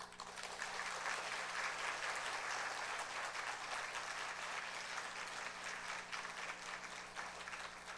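An audience at a lecture claps continuously for several seconds, a dense, even wash of applause at moderate level with no voices over it.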